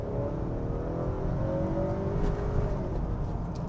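A 2019 Honda Accord 2.0 Touring with its two-litre engine accelerating hard in sport mode, heard from inside as a steady rising engine drone with road rumble underneath.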